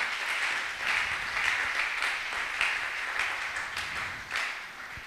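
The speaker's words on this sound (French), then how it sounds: "Acclamons très très fort." A church congregation claps steadily together, a dense, even wash of applause with slight swells that carries on for several seconds without a break.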